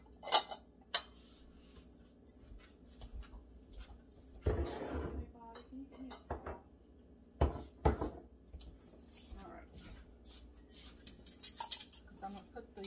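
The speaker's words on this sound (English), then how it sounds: "I'm going to move these jars" Glass yogurt jars clink and knock against each other and a countertop while being shifted around a kitchen, in scattered clatters of varying loudness amid quiet pauses, with no talking.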